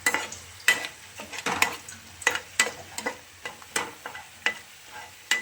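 Chopped onion and green chili frying in a wok (kadai), stirred with a spatula: a bright continuous sizzle broken by regular sharp scrapes and taps about twice a second, close up with no talking.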